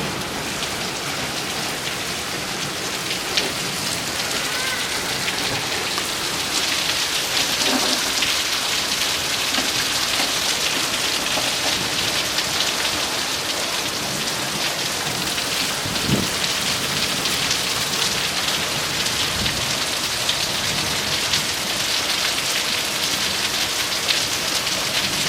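Heavy monsoon rain pours steadily through the night in Phoenix, Arizona, a dense continuous roar of drops on surfaces, loud and close, with faint rumbles of distant thunder underneath.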